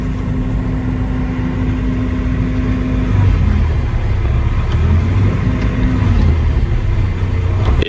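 A CASE excavator's diesel engine runs loud and close, its steady drone dropping in pitch midway as it bogs under load, then wavering between heavier and lighter strain; the machine has a no-power fault.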